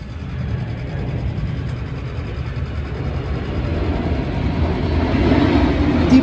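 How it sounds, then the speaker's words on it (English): Delta airliner passing overhead near JFK airport, a broad steady roar that swells gradually louder toward the end, heard alone without talk. "Deplane, it's a Delta flight."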